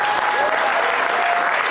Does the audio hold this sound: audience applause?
yes